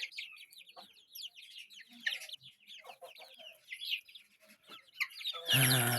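Grown chicks and chickens peep and cluck in quick overlapping bursts, fairly close and continuous, with a louder flurry of clucking at the end.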